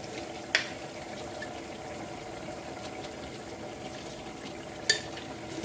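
Onion and garlic puree with salt frying in a pan for rajma, a soft steady sizzle close by, with two brief louder clinks as the mix is stirred.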